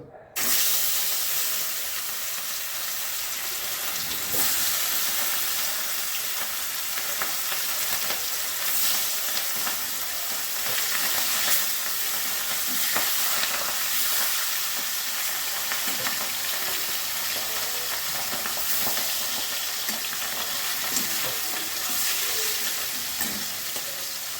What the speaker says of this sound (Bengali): এটা আমি সর্ষের তেলে করছি। মাছগুলো ভেজে নিচ্ছি।